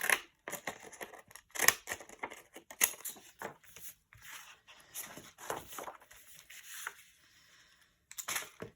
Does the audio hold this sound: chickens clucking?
no